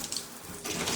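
Shower water runs steadily over hair while styling wavy hair, a close, continuous hiss and splash that swells louder near the end, with no talking.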